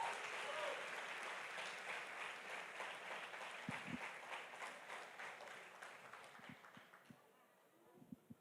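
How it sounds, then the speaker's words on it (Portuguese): Church congregation applauding during a family worship service, sustained crowd clapping that gradually fades toward the end, with a voice speaking over it. "Dê uma salva de palmas."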